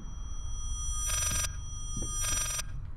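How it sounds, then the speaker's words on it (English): In the horror video game Layers of Fear, a telephone rings backwards in a creepy corridor: two separate bursts of electronic ringing over a low droning ambience. "It's a phone."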